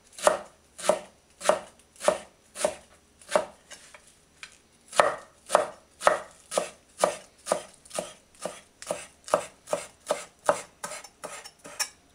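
A knife chopping a bunch of parsley by hand on a board, about two dozen crisp evenly spaced chops with one short pause, close and clear, no voices.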